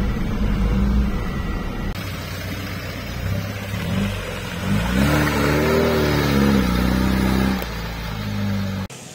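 Off-road car on a forest track, engine droning then revving up as it gathers momentum, a rising whine in the middle before easing off, loud and close.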